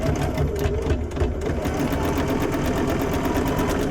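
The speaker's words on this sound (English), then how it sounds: "you're going to sew up one side and down the other" A sewing machine stitches a quilt block, keeping a steady, fast mechanical whir and rapid needle clatter close up, running continuously with no talking.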